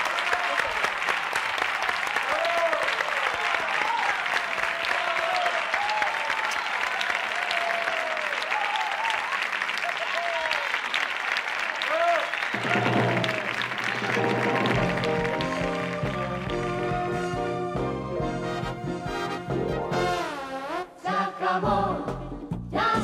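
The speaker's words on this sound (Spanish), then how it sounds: "Un aplauso" A studio audience on a 1996 Spanish variety show, Esto es espectáculo, applauds with steady, dense clapping that carries on as music swells in beneath it and gradually takes over.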